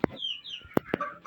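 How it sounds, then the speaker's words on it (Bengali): Fayoumi roosters being raised for meat give short clucks on a small farm: a few abrupt, close calls spaced irregularly over a second, with faint chirping between them. "ফাউমি মুরগির মোরগ।"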